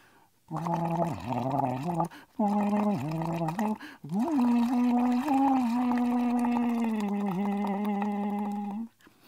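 A gurgling, warbling voice sings in wavering tones, imitating underwater fish song in several bursts separated by short pauses.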